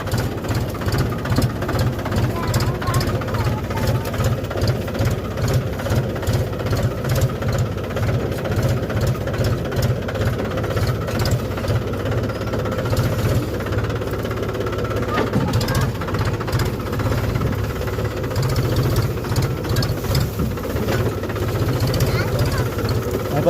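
A tractor engine runs steadily while the tractor is driven, its low, pulsing rumble loud and constant throughout, with people talking over it.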